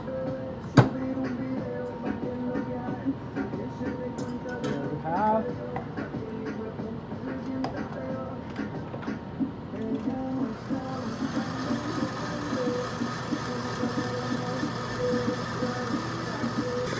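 A KitchenAid stand mixer whips meringue made from egg whites warmed to 50 °C, giving a continuous motor whir with a rhythmic whisking churn. The sound brightens and grows busier partway through, and a voice is heard now and then.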